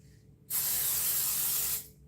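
Cooking spray bursts onto a new pan in one continuous hissing blast lasting over a second, close and loud, with quiet before and after.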